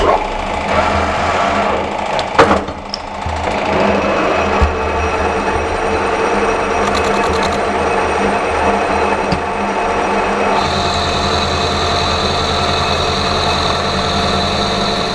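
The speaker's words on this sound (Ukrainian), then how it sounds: "Бачите, я ріжу ріжу канавки." Metal workpiece being cut with grooves on a lathe while machining parts for gas diffusers: a steady, close mechanical whir and hum runs throughout, with a brief clatter early on and a higher whine joining near the end.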